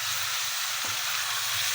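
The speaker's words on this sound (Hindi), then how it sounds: "इसको मैंने अच्छी तरह फ्राई करना।" Chicken pieces frying in a pan, a dense steady hiss of sizzling oil, close and loud, with a faint low hum underneath and no talk.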